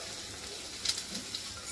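Two chopped medium onions frying in hot oil with asafoetida, a soft steady sizzle with faint crackles and a few brief pops, close and quiet.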